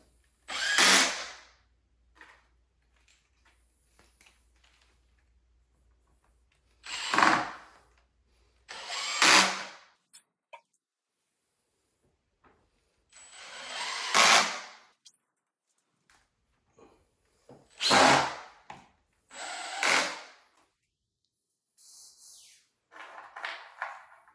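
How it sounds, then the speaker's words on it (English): Power drill driving screws into pre-drilled IKEA Besta particle board, heard as six short whirring bursts separated by silence, close and fairly loud. "I'm just going to take it and drill it right in, making sure it goes in straight."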